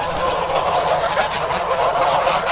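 Geese honking and cackling steadily while eagerly eating new feed mixed with beet pulp, a dense, continuous flock chorus close by with no talking.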